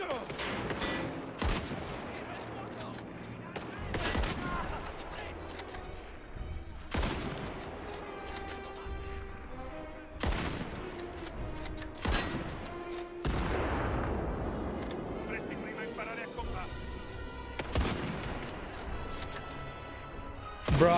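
Bursts of rifle gunfire in the Rainbow Six Siege video game ring out repeatedly: a series of loud, sharp volleys spaced a few seconds apart over a steady background of game sound and music.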